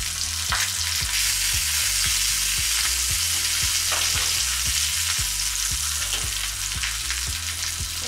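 Wild boar or venison and vegetables sizzling in a pan over low heat, a constant loud close frying hiss with a faint rhythmic ticking beneath, no voices.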